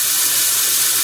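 Tap water runs steadily and loudly into a sink as raw chicken is rinsed off, a continuous close splashing rush with no talk.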